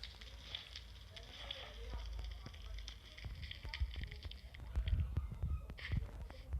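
Fire crackles and sizzles steadily inside a video game, a soft hiss broken by irregular pops, with low rumbling and a little quiet speech-like sound underneath.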